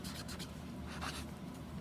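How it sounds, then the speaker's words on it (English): Pen scratching across a writing surface, a soft continuous rubbing and scraping close to the microphone, steady and fairly quiet, with no voices. "So I will write inflammasome."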